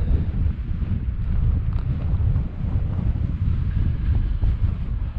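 Strong wind gusting across a small rocky outcrop overlooking the countryside, buffeting the microphone with a constant low rumble and roar that barely lets up.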